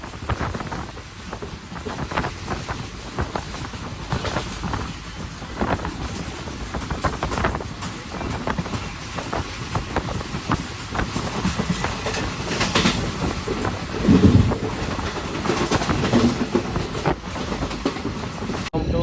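A passenger train runs at speed between Tiruvannamalai and Tirupati, heard as a loud continuous rumble with rhythmic clickety-clack of wheels and buffeting wind noise, with no talk.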